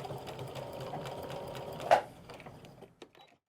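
A sewing machine backstitches the elastic waistband of a skirt with a quiet, steady whirring run that ends in a sharper clunk, followed by a few faint clicks before it stops.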